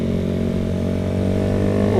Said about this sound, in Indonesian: Ada motor Thailand tuh.